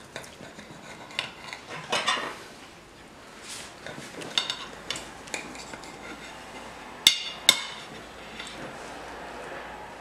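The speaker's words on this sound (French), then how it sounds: "Alors, on va couper ça." A knife and fork scrape and clink against a plate while a tortilla is cut into portions, with scattered taps and a few sharper chinks in an irregular rhythm.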